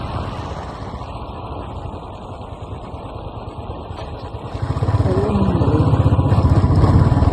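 Motorcycle engine on a midnight ride through Silent Valley, a steady close rumble that swells louder and deeper about two-thirds through as the rider shifts gear, holding a stronger drone to the end.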